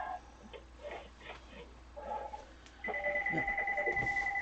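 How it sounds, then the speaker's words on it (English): A telephone rings in a home where masks are being sewn, starting about midway as a steady electronic tone that fills the rest of the clip after some quiet background voices and small clicks. "The phone is ringing."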